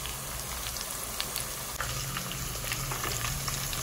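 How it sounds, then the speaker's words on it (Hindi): Sliced onions frying to brown in a pot for masoor pulao, giving a steady, fairly quiet crackling sizzle with scattered pops throughout. "प्याज अच्छी ब्राउन हो गई है हमारी"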